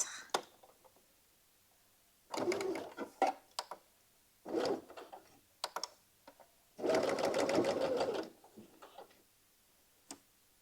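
A sewing machine stitches bias binding onto a blouse neckline in several short rattling runs separated by quiet pauses, fairly close.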